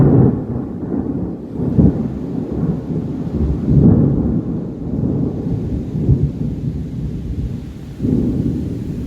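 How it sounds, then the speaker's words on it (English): Thunder during a storm, heard from a roof hatch on a bus, rolls in as several deep swelling rumbles that rise and fade over a soft bed of rain. "I could feel the bus move with that thunder."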